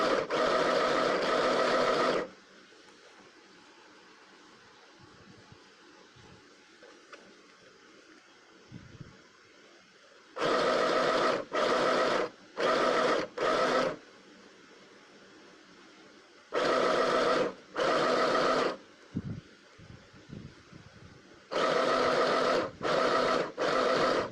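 A sewing machine stitches fabric for scrunchies in loud bursts of rapid whirring, each lasting one to two seconds and separated by quiet pauses while the cloth is repositioned.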